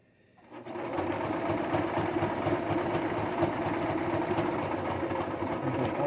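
A home sewing machine runs a continuous steady whir as it stitches a fleece face, neck and ear warmer, starting from near silence and holding an even motor hum throughout.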